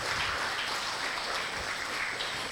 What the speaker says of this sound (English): Okay, please give a big applause.